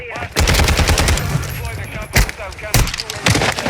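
Automatic gunfire rings out in Call of Duty Warzone 2.0 on Ashika Island, loud close bursts and single sharp shots repeating unevenly, with players talking over the shooting.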